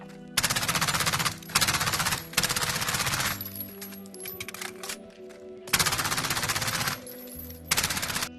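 Automatic gunfire from Call of Duty: Modern Warfare comes in repeated loud bursts of a second or so each, separated by short gaps with quieter game effects and a low hum in between.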